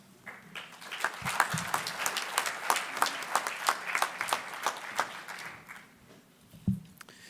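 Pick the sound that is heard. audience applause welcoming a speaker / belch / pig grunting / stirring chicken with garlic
audience applause welcoming a speaker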